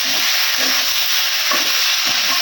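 Curry masala fries in a pan with a loud, steady hiss, and a spoon stirs through it in soft repeated scrapes, close up, with no talk.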